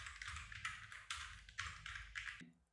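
Typing on a computer keyboard, quiet close bursts of rapid key clicks in several short runs that stop abruptly near the end, no talk.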